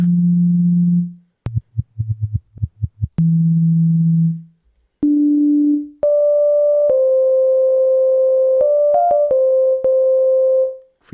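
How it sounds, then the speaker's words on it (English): A clean, pure sine tone produced by a feedback loop sounds in steady sustained steps at several pitches, with short pulsing bursts and gaps between held notes, loud and close with no talk. "it's a very clean sine wave."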